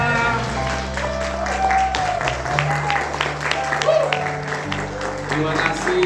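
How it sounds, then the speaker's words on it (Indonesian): A church congregation stands and applauds a newly married couple. The applause is a continuous patter mixed under sustained music tones and murmuring voices, rising slightly partway through. "Jemaat Tuhan bisa berdiri, berikan tepuk tangan yang terbaik buat mereka"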